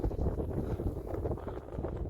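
Strong desert wind rushing steadily near Kuldhara village in Rajasthan, a loud continuous roar buffeting the microphone as sand blows over the dunes, with no voices.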